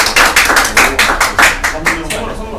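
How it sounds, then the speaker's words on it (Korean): A lecture audience gives a short round of clapping, a quick rhythmic run of sharp hand claps from nearby that fades out after a couple of seconds. "박수 한번."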